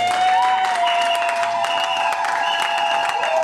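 A church congregation applauds and cheers at a reconciliation service, with dense, continuous clapping and crowd noise at steady loudness throughout, plus a sustained tone running underneath.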